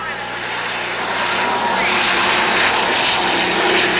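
Turbine-engined unlimited hydroplane race boats, including the Miss 7-Eleven and Miller American, roar on the Ohio River at Madison, Indiana during a race heat. The engine noise is a loud, steady, continuous whine and rush, with a commentator talking over it.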